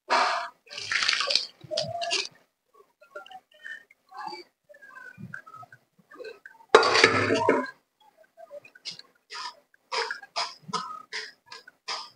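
Water is poured off cooked chana dal for puran in a kitchen, with two short splashing pours separated by quiet stretches of small clatters and faint sounds.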